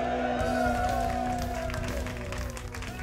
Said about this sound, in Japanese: 手拍子でお迎えください。